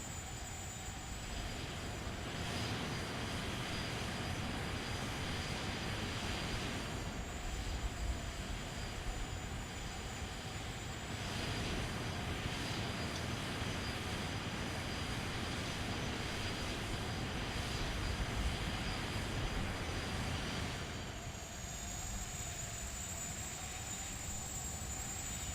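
Steady airliner engine drone in Microsoft Flight Simulator X as the plane descends to land, a continuous broadband roar with a high whine, holding loud and even throughout with no speech.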